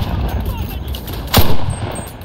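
Artillery fire in the World War II shooter Enlisted, a single loud nearby blast standing out against steady low battlefield rumble and distant gunfire.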